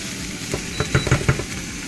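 Chicken and cauliflower curry fries in a pan in a Nepali home kitchen, a steady sizzle broken by a few close, clattering stirs in quick succession.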